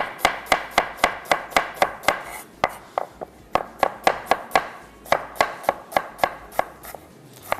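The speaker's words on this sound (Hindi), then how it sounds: "प्याज हो जाएगी यहाँ पे स्लाइस" An onion being sliced with a knife on a board: a fast, regular run of sharp close chops, about two to three per second, with a short pause midway and no speech.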